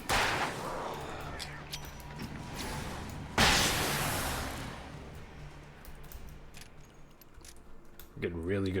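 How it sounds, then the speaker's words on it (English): Flashbang grenades detonating in Alan Wake, two bright bursts with a sharp crack and a long hissing decay, the second louder, followed by lingering ringing ambience and a brief voice near the end. "Getting really good placements of our flashbangs here, and I'm loving it."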